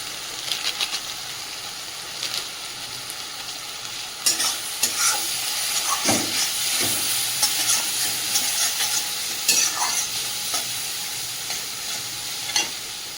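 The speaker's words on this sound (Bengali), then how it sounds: "মশলাটা বেশ ভালোভাবে কষিয়ে নিয়েছি মশলা থেকে তেলটাও ছেড়ে দিয়েছে" Spice masala with turmeric and Kashmiri chili powder is sautéed in oil in a pot for a meat curry, a continuous sizzle with repeated scraping strokes of a spatula that get busier midway.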